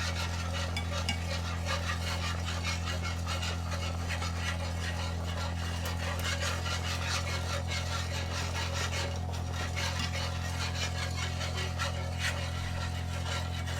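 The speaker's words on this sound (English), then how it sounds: "So about 3 to 4 minutes of whisking for it to thicken and cool slightly into the nice gravy" Whisk scraping and stirring sausage gravy in a pot, a continuous soft rubbing swish repeating steadily over a low background hum.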